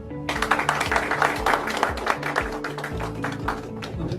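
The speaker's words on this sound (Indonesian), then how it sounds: "Mohon tepuk tangan" Audience applause at a health-supplement seminar in Indonesia, a loud dense wash of clapping that carries on steadily over rhythmic background music, with no talk in between.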